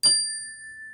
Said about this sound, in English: as he rings the chime